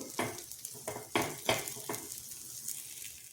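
A cutlet shallow-frying and roasting in oil in a pan, with soft sizzling and several distinct stirring or scraping clatters of a utensil at irregular intervals, fairly quiet and close.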